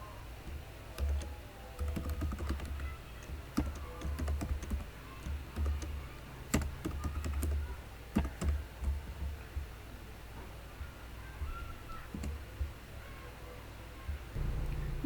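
Program code typed on a computer keyboard, rapid irregular bursts of close key clicks with brief pauses between runs, moderately quiet and without speech.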